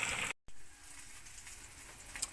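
Food sizzles and fries in a pan in a home kitchen on a farm, a soft steady crackle that drops out briefly near the start, then continues faintly and evenly.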